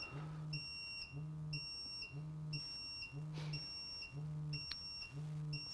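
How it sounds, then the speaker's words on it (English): A gas detector in low alarm on flammable gas sounds a loud, regular electronic beep pattern, about one tone per second, with higher piercing chirps layered over it, steady and close. "So it's picking up flammables now. Just went into low alarm"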